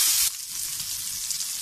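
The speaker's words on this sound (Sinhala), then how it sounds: "මේ වෙලාවේ අපි අර හදාගත්තු රතු ලුණු ටික එකතු කර ගන්නවා" Red onions hit a hot frying pan with soy sauce while cooking Sri Lankan eggplant moju, giving a bright hiss that settles into a steady, moderate sizzle.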